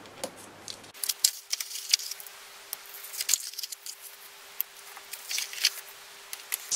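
Scissors snip off tiny bits of scored card while making a photo box album, giving a string of quiet, close, irregular crisp cuts and small rustles with no talk.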